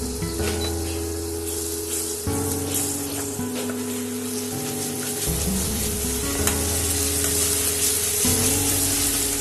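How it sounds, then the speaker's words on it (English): Masala frying in hot oil for a mango and boiled egg gravy after water has been sprinkled in, a loud continuous sizzle with crackling bursts and stirring scrapes throughout, close and alone with no talk. "I'll just sprinkle some water on this and I'll cook it some more."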